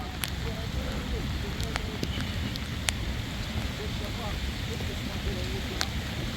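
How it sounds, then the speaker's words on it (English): Steady rain falling on a rainy day at a cherry farm in Canada, a constant dense hiss with scattered sharp drips and ticks throughout, with no pauses. "It's a rainy day."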